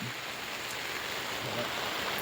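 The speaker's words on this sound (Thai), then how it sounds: "เพราะว่าฝน ค่อนข้างแรงครับ" Heavy rain pours steadily over a rice field campsite in the Isan countryside, a dense, even hiss close by with no clear breaks.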